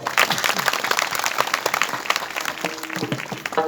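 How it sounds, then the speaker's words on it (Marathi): An audience at a religious discourse event claps for the planning committee, a dense close round of applause with a few voices calling out over it. "एकदा नियोजन समिती करता टाळ्या वाजवा"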